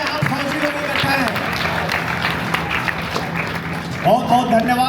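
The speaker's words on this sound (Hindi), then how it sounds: "मैं आप सभी से रिक्वेस्ट करूंगा इन बच्चियों के लिए एक जोरदार ताली" Dense, steady applause from a gathered audience of soldiers and guests, cheering on a group of young girls at an army EME Corps Foundation Day celebration, with voices mixed into the clapping throughout.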